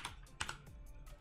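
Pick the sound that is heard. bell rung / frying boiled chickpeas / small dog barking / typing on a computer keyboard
typing on a computer keyboard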